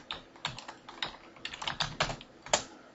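Quick, uneven keystrokes tap on a computer keyboard, a close, quiet run of clicks with short pauses between them.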